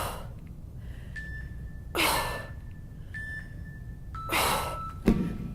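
Two loud, sharp breaths, each a forceful inhale or exhale lasting under a second and spaced a few seconds apart, from someone exercising on a stability ball, close and alone over a faint steady tone.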